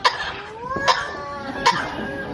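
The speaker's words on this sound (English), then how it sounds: "A few good coughs, a bit of a treat." A trained show bird named Fernando gives three short, sharp coughing sounds, evenly spaced over about two seconds, close by, with a faint warbling whistle between them.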